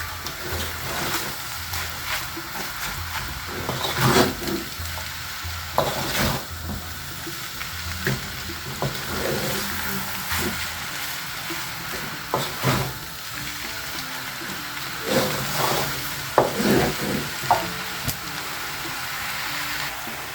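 Mee goreng noodles stirred and fried in a hot pan, a steady sizzle broken by scraping stirs and clacks of the utensil at irregular intervals, close and fairly loud, with no talking.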